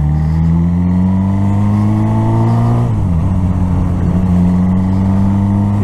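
A big 1000cc motorcycle engine runs loud and close, its steady drone climbing in pitch, then dropping abruptly as the revs fall before settling into a steady idle-like hum.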